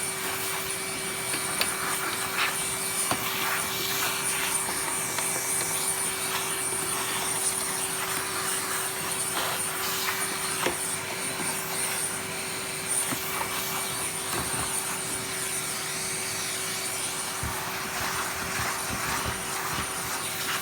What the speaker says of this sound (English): Let's just give it a quick vacuum.